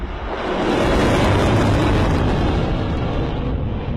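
Precision-guided missiles strike targets in Deir ez-Zor province, Syria, producing a sustained, loud, rumbling explosive roar that rises quickly and holds heavy and broadband for several seconds without any speech.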